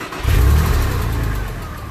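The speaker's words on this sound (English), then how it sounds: "now all we do is start her up, and we let her idle for 15 minutes" A 2000 Porsche 911 Carrera engine catches and settles into a steady, low rumbling idle, loud and close, with no voices.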